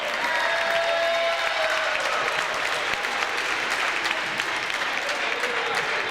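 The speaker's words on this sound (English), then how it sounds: "Let's give another round of applause for the tournament champs," Crowd at a Little League basketball championship applauds the tournament champions, the Bulls, with sustained dense clapping and some cheering voices that hold steady and fairly loud from start to finish.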